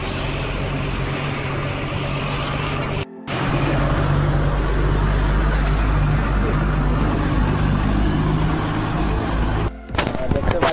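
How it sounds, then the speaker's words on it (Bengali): A truck pulls out of a yard on a cold night, its loud, steady engine rumble dominating throughout, with two brief dropouts and possible faint voices underneath. "ট্রাক বেরোচ্ছে জেজেপি থেকে।"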